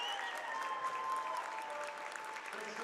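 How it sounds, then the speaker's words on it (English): Ravens home crowd gives a sustained standing ovation at a girls' high school basketball playoff game, Riverdale Ridge vs Windsor High; steady, fairly distant clapping fills the whole stretch with no voices standing out. "A standing ovation here from the Ravens crowd, giving their girls a round of applause for a great season played."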